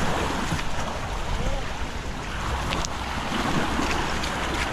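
A fishing boat moves through choppy water on Taal Lake, with a steady wash of waves and wind buffeting the microphone throughout.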